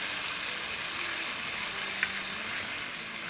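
Paya (goat or lamb trotters) sizzling as it fries with yogurt stirred in, a steady broadband crackle throughout with one brief utensil tap midway.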